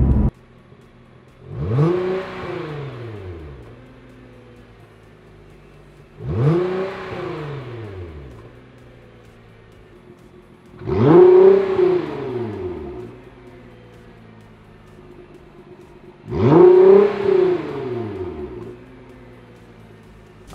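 A 2017 Nissan GT-R with Armytrix exhaust valves revs four times at even intervals. Each rev is a loud, rising and falling engine roar, followed by a settling idle, with no talking.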